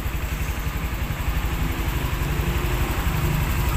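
A Honda Click scooter, six years old and fitted with a new battery, idles steadily after starting, giving a close, even low putter that stays constant without voices.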